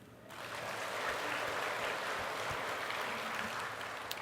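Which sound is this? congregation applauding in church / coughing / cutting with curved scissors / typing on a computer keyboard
congregation applauding in church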